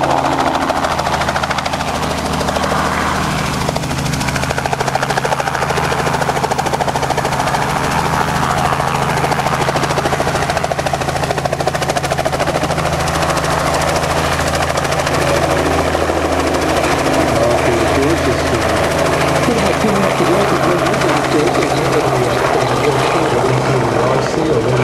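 Robinson R44 helicopter flying a demonstration at Rotorfest 2008, its rotor and engine thrumming loudly and steadily throughout, with faint voices mixed in.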